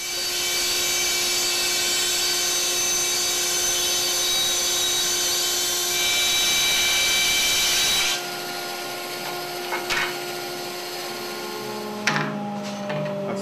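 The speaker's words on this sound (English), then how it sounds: "We're going to take this and make it into smaller boards" A power saw cuts wood into smaller boards in a workshop, its loud, steady whine and rasp running for about eight seconds before the cut ends and it winds down, followed by a few knocks and clatters.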